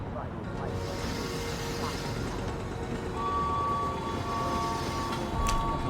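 A train idles at a station in the Murder on the Orient Express game, a continuous rumbling rail hum with a faint whistle-like tone rising midway, fairly close and steady throughout.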